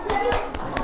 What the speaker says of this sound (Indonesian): Tepuk tangan buat yang benar.